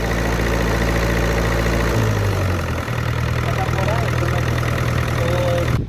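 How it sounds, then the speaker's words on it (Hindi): A Miller Big 40 diesel welding machine engine runs at a steady idle, a loud, continuous low rumble close by that shifts slightly in pitch partway through. "देख सकते हैं ये डीजल वेल्डिंग मशीन है मिलर बिग 40"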